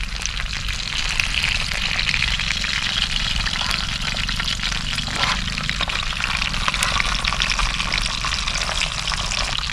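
Mackerel fish frying in oil on a tawa over a gas flame kept at a moderate setting: a continuous, fairly loud crackling sizzle with fine spitting pops, steady from start to finish.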